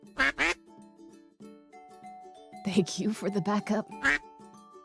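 Cartoonish duck quacks come in short bursts near the start, through the middle and at the end, under speech and other voices in an animated telling of Penelope and Odysseus with ducks.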